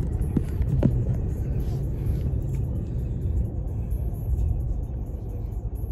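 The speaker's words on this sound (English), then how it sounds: "you can hear the engine roaring" A car engine roars in a continuous, loud low rumble from inside the vehicle on a road, holding steady throughout with no talk.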